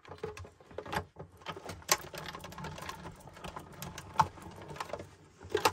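Embossing folder holding multicolored paper strips cranked through a manual paper crafting die-cut machine, giving a close run of dense mechanical clicks, rattles and sharp ticks with a few louder snaps, no voices.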